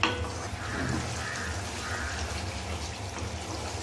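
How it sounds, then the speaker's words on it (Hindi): Masala spices sizzle steadily in hot oil for an arbi-leaf curry, giving an even, close frying hiss with no talking. "देखिए हमारा मसाला भून रहा है"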